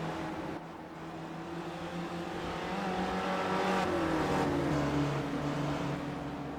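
Spec Racer Ford race cars braking hard into the Sebring hairpin, engines droning and shifting down in pitch as they slow, with a fairly close, continuous roar.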